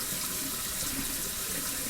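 Water from a shower pours in a continuous, even hiss, filling the space close by with a steady wash of spray and no voices.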